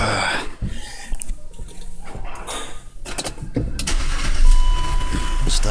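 A BMW engine cranks and starts right up after an oil filter housing leak repair, settling into a steady idle, with some mechanical rustling and background voices nearby.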